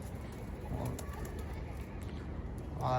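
Posta pigeons in a loft give soft, low cooing at a modest distance over faint background noise, with a brief wing flutter near the end.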